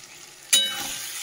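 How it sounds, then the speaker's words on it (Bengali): Spice masala and whole brinjals fry loudly in a pan, a sudden burst of close sizzling that settles into a steady hiss, with another flare at the end, no talking. "মশলা আর বেগুন তো ভালো করে এখানে কষিয়ে নিলাম"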